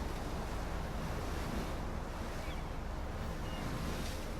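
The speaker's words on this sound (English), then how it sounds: "So that's a big tornado, and they come through every once in a while, and it is just fucking up this town." Roaring tornado wind and crashing waves over a storm-battered coastal town in the video game Life is Strange, a dense, steady rush of surf and gusting wind without letup.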